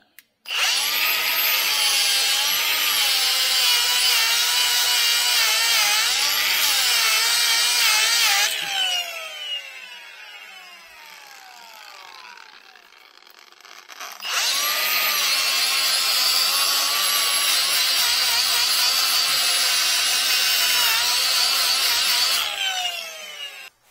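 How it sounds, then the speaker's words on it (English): A power wire wheel grinds against metal on a Ford Super Duty rear axle housing, a loud, high whine with a scratchy edge in two long bursts separated by a winding-down pause, recorded up close. "So we'll wire wheel it here first."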